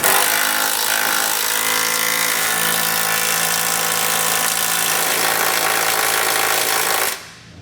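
An impact wrench with a 19mm socket tightens trailer hitch bolts on a 2014 Toyota Highlander, giving one loud, continuous, rattling hammering burst that stops abruptly near the end, with no talking.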